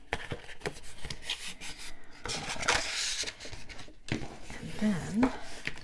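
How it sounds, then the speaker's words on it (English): Paper folds on a handmade mini album are burnished and worked back and forth, giving close, soft rubbing and scraping strokes in irregular bursts, with brief pauses and a faint voice in the background. "I'm going to really burnish these and work them back and forth."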